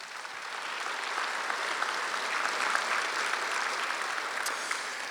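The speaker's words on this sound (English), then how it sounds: "Please, nice round of applause." An audience at a Virginia Values Veterans Awards ceremony gives a round of applause, a sustained, even roar of many hands clapping that swells slightly in the middle before easing off.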